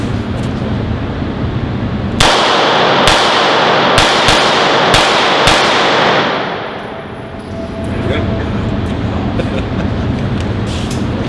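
Handgun shots from a Glock 17, five or six loud sharp reports in a quick uneven string, each ringing out with a long decaying tail before the scene falls quieter.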